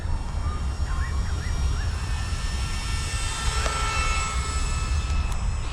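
An RC model plane built after the Canberra bomber flies outdoors at about two-thirds throttle, its engine a steady, fairly distant drone with faint pitch shifts as it passes, over wind noise.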